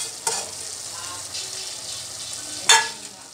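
Fresh coriander and half a kilo of potatoes go into a hot pan for a carrot, potato and fenugreek sabzi, raising a loud sizzle with stirring scrapes and a sharper burst of frying near the end.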